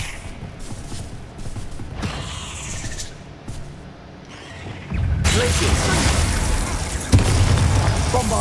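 Spell blasts from Bombarda and Confringo in the Hogwarts Legacy video game: booming, bursting impacts rolling into a sustained loud rumble, with a sharp pop near the end.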